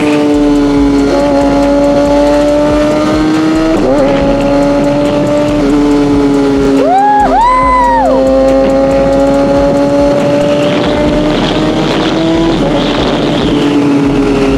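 A Kawasaki ZX6R sport motorcycle ridden hard, its high-pitched engine whine holding steady with rising and falling revs through gear changes, loud and close throughout with steady wind roar underneath.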